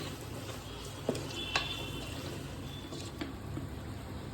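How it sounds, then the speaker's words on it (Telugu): Garlic cloves fry in a spiced masala for Andhra-style fish curry, giving a steady close sizzle with a few sharp clicks of a spoon against the pan. "వెల్లుల్లిపాయ రెవ్వలు కూడా ఇందులోనే వేసి వేయించేసుకోవాలి."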